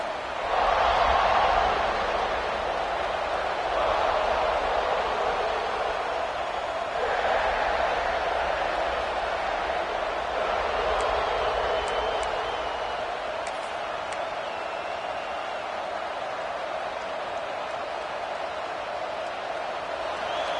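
Steady roar of a stadium crowd in a college football video game against Texas, a dense continuous wash of cheering with slight swells, no clear voices on top.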